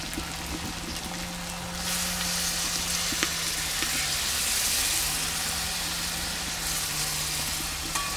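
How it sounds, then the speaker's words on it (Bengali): Jackfruit and spices sautéing in a pan with boiled dal being added for a Bengali vegetarian dish, a steady close sizzle that swells louder partway through under a faint low hum, with no talking. "সেদ্ধ করে রাখা ডালটা এবার আমি এঁচোড়ের মধ্যে দিয়ে দেবো।"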